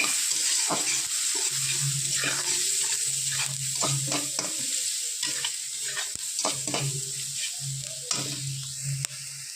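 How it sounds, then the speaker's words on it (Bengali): Onions fry in a pan with turmeric added while making masoor dal bharta, a continuous close sizzle broken by repeated scraping strokes of a spatula stirring the pan. "পেঁয়াজ ভাজায় দিয়ে দেবো হলুদ, পরিমাণ মতো একটু হলুদ দিয়ে দেবো"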